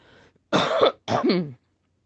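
Two harsh coughs from an ill person doing breathing exercises, in quick succession, close and fairly loud, after a brief faint murmur; then quiet.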